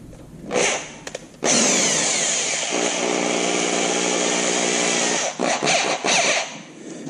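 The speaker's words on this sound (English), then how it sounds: "why we're using a drill" A power drill whirs loudly and steadily for several seconds, cutting through plastic with a harsh high whine, preceded and followed by short bursts.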